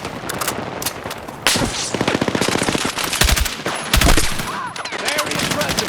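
Rapid bursts of automatic machine gun fire in a Battlefield 6 battle, loud and close, with repeated volleys, sharp single shots and brief pauses between strings of rounds; voices shout over the gunfire.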